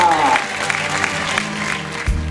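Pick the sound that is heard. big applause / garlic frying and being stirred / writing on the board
big applause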